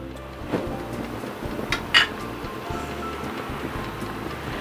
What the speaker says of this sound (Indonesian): Saya kocok telur ayamnya sampai berbusa ya.